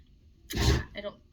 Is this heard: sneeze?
yes